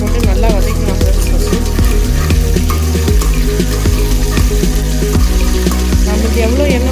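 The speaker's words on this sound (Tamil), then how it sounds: "கடுகு, காஞ்ச மிளகாய், கருவேப்பிலை போட்டு நல்லா வதக்கலாம்" Mustard seeds, dried chillies and curry leaves frying in oil for tomato rasam, a loud steady sizzle with tonal background music running underneath.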